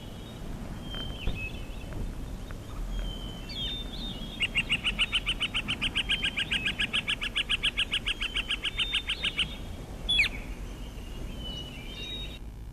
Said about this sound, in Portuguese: Muitos sons do quê? De pássaros, porque vocês conhecem o timbre dos pássaros